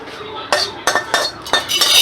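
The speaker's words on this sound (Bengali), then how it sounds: "একটা পাত্রে ডালটাকে ঢেলে দিলাম" Fried lentils for khichuri tipped from a pan into a pot, producing a quick series of close metallic clinks and scrapes from the utensils.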